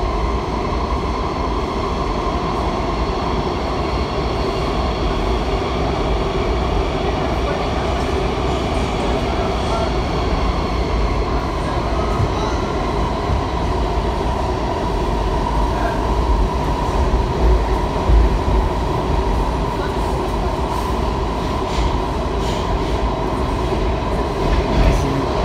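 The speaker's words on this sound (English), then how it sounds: "Now this new rail sound, it's kind of hard to tell how fast the train's actually going." Train wheels of a Kawasaki-built subway car rumble continuously along the rails at close range, a steady, loud roar with faint rhythmic clatter and no pauses.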